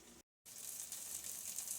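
Cod fillets sizzle in a pan, a soft, even hiss at low level broken by a brief silent gap near the start, then continuing steadily and close.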